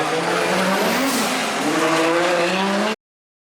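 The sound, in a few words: BMW E46 race car with 2JZ engine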